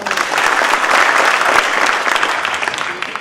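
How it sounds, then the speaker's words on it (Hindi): Loud, dense audience applause at a Hindi kavi sammelan poetry recital, steady clapping from a crowd that swells slightly midway and tapers toward the end. "जोरदार तालियों"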